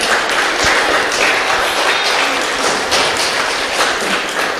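Church congregation applauding during a Spanish-language sermon, a dense, fairly loud patter of hand claps with occasional thumps, steady throughout with no talk over it.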